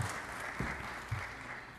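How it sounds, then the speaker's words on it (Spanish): Church congregation applauding the Lord during a Spanish-language sermon, a soft, steady wash of clapping heard from a distance, with a few louder thumps rising through it. "Denle un aplauso al Señor, mi hermano."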